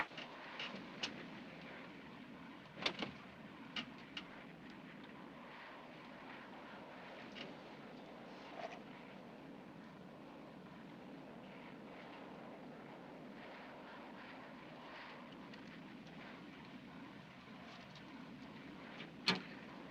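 A film soundtrack carries the steady broadband roar of a consolidated passenger airliner on final approach for an emergency landing. The drone is faint and continuous and is broken by a few sharp knocks and thumps.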